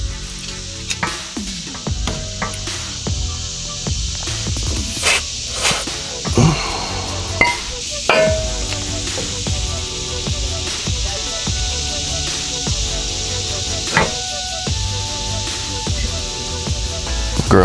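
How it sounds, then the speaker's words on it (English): An aerosol can sprays grease into bolt holes during an oil pan skid plate install on a 2004 Jeep Wrangler TJ, giving a steady hissing spray with intermittent clicks and handling clatter, close and without talk. "I wanted to spray some grease in these holes first."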